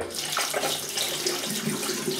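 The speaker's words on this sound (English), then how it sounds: "I'm just going to wet my hands and just add some water to this like that" Tap water runs onto hands before a wet shave, a close, steady splashing rush that stays even throughout with no talking.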